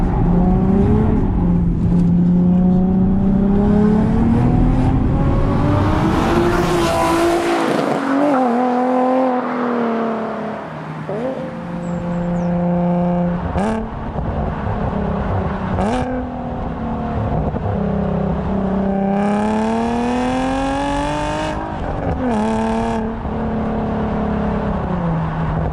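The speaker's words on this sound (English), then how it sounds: "it's still a car that feels special, is exciting to look at, sounds amazing" Nissan 370Z engine revving hard and driving, its pitch climbing and falling through repeated gear changes, loud and close throughout with no talk.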